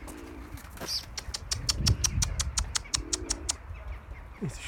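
A flock of game pigeons on a cold day, their wings clapping in a rapid burst of flaps close by, with soft cooing and a few low calls before and after.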